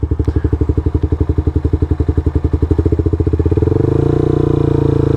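Motorcycle engine pulls away in first gear, its single-cylinder-style thumping beats rising steadily in pace and loudness as throttle is added to about 3,000–4,000 RPM, close and alone.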